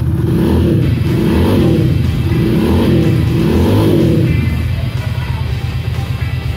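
An RC250 motorcycle with a quick-throttle conversion revs in a series of short throttle blips, loud and close, with the engine idling steadily between bursts.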